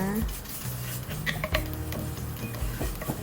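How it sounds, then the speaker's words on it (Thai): Green curry paste frying in a little oil in a pan, with close stirring and scraping of a utensil against the pan and occasional clinks, under a soft, steady sizzle. "ใส่น้ำมันนิดหน่อย ผัดจนกว่าพริกแกงจะหอมเลยจ้า"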